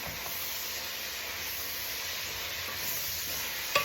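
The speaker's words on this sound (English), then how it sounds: "frying them a little bit at first, or I would say sauteing" Collard greens sauté in a pot for Liberian-style greens, giving a steady, close, loud sizzle and hiss with a small clink near the end.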